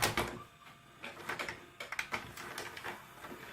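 A VCR loads a VHS tape with a quiet run of mechanical clicks, clunks and short whirring bursts.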